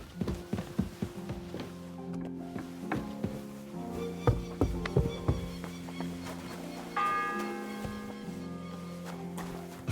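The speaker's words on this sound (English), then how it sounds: "The fourth bell." A church bell tolls in a medieval village in Kingdom Come: Deliverance 2, set among clopping hooves, knocks and taps, with a sustained ringing tone rising near the end, moderately distant and layered in ambient game sound.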